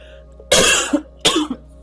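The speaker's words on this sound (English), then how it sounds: "I'm so sorry, I have a coughing fit." Two harsh, loud coughs in quick succession, each a broad burst followed by a short throaty tail, with quiet pauses around them.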